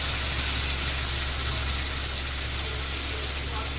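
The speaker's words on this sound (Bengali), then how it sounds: "পরিমাণ মতো জল দিয়ে দেওয়া হলো।" Water poured into a pot of fish curry with potato and ridge gourd, a continuous close splashing gush with no break, steady and fairly loud.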